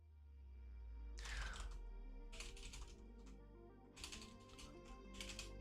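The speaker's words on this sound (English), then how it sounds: "Oh boy, typing." Quiet keystrokes on a computer keyboard come in several short bursts of rapid, irregular clicking, separated by brief pauses.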